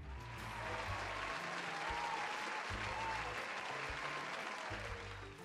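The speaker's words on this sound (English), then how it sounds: "Everyone, round of applause for Jake." A crowd breaks into sustained applause, steady clapping that swells and holds at a moderate level, with no speech over it.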